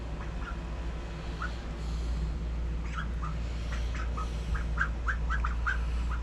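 Ducks squawk in a series of short, repeated calls that grow more frequent toward the end, heard over a steady low background hum.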